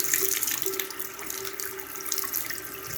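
Water splashing steadily from a tap on a long-unused farm well in Portugal, a close continuous gush and patter with no talk.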